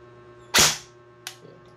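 A JG M4A1 airsoft rifle fires a 0.30 BB once, a sharp close snap that decays quickly. A fainter click follows about 0.7 seconds later over a low steady hum.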